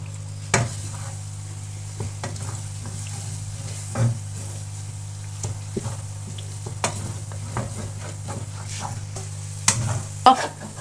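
Semolina and milk halwa is stirred in a pan as it cooks, with soft sizzling and repeated scraping strokes over a steady low hum, close and fairly quiet with no talk.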